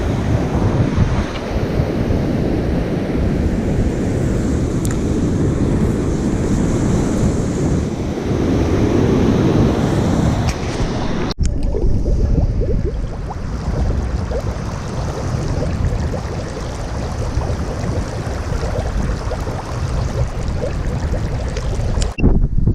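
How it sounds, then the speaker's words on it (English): Strong wind blows across the beach at Sea Palling in Norfolk, buffeting the microphone with a continuous roaring gust while surf washes in beneath it. "it's getting quite breezy now"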